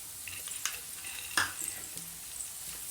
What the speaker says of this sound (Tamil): நல்லா இப்போ வந்து தீயை விட்டுறாமல் இந்த மாதிரி கிளறி விட்டுட்டே இருங்க